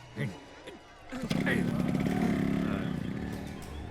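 Motorcycle engine starting in a Marathi comedy film scene, with short voices first and then the engine catching and settling into a loud, rough, steady idle that holds to the end.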